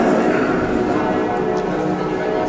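Church bells ring at a priest's installation service in a Landivisiau church, a dense, continuous clangour of overlapping tones that fills the space loudly and evenly throughout.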